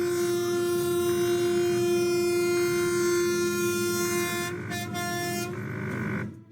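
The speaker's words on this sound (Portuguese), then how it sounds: "o som desesperado da buzina de um trem se aproximando em alta" A loud, sustained horn of a train approaching at high speed blares continuously for several seconds, steady and close, with brief dips near the end.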